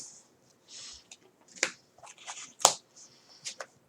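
A few quick cuts of a Magic card deck during a Vintage Goblins game give soft papery riffles and sharp card snaps, scattered and close in a quiet room with no talk.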